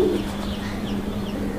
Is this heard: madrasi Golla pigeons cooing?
yes